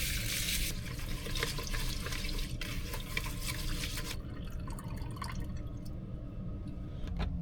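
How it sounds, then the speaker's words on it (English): Warm water runs from a tap to wash rice, a steady splashing hiss close by that eases into softer trickles and drips toward the end. "I need some water to wash the rice. I'm gonna use warm water."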